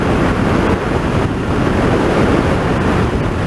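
Strong wind buffets the microphone in a constant, loud, broadband roar that barely changes for the whole stretch.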